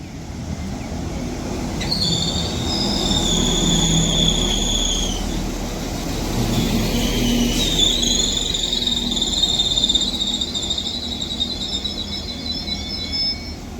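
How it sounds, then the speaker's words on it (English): Transport for Wales train 197046 arriving at Runcorn station on the West Coast Main Line, a loud steady rumble of wheels on rail with long high-pitched brake and wheel squeals as it slows, close by and without voices. "Smoothly arrives in 197046"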